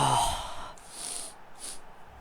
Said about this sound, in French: Je vais renifler très fort.